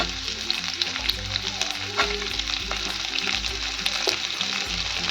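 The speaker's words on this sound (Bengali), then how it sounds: "পেঁয়াজটা আমি হালকা করে ভেজে নেব।" Onion and fifteen garlic cloves frying in a pan for chicken chaap, a steady close crackling sizzle with scraping stir strokes throughout and no voices.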